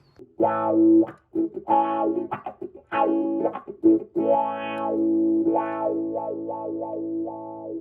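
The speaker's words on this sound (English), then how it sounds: "it is a lot tighter of a sound more clarity through the wah" Electric guitar through a 1989 Dunlop Crybaby wah pedal fitted with a red Fasel inductor, a series of bent, vocal-sounding notes with sweeping tonal swells, played alone in short phrases.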